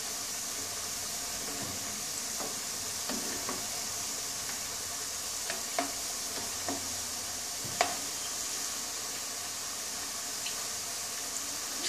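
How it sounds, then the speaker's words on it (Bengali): Moong dal pitha deep-fries submerged in hot oil, a soft steady sizzle with scattered crackles and occasional louder pops, no voices. "তেলটা কিন্তু ডুবো তেলে ভাজা হবে"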